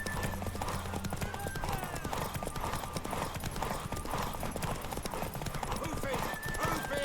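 A horse gallops in The Witcher video game, its hooves clip-clopping in a quick, steady rhythm with an occasional whinny. Character voices talk over it throughout.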